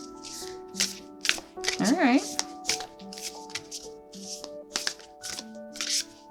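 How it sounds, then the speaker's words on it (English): Tarot cards being shuffled by hand, a run of crisp, rapid riffling bursts repeating at a steady pace, close and clear, while a person speaks briefly over them. "these are not easy cards for me to shuffle"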